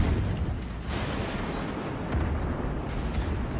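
In a naval video game, torpedoes detonate against a destroyer in a sustained, rumbling roar of explosions with no distinct sharp onset, heavy and low throughout, with no voices.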